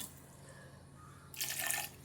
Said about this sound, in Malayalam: ഇതിലേക്ക് ആവശ്യത്തിനുള്ള വെള്ളം ഒഴിച്ച് കൊടുക്കാം